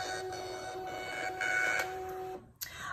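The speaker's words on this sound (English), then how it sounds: "Make sure your thermal printer is on." A thermal label printer runs for about two and a half seconds, loading free 4x6 shipping labels and printing barcodes. Its whirring, stepping feed is steady and close, with tonal whines throughout, then it stops and a short click follows.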